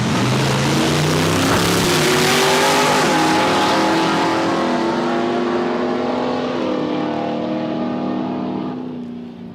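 A big Mopar drag car accelerates hard down the strip at a drag raceway, its engine note climbing through gear changes, loud and sustained before easing off at the end of the run; no talking.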